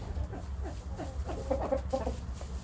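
A hen clucks in a series of short, soft calls, growing a little busier midway, over low background noise.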